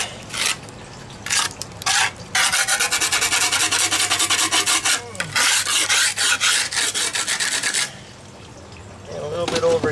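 A tool scrapes a still-soft concrete patch in loud, rasping strokes up close, with a few short passes and then a long continuous scrape.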